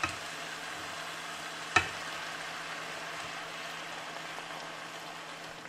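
Lamb and chard sauté over very high heat in a steady frying sizzle, moderately loud and even, with one sharp clack of a utensil early on.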